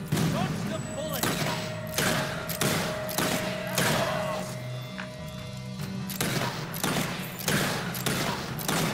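Gunfire in the video game Fable 3 fires as a rapid string of sharp, loud shots that repeats in bursts, close and dominant throughout.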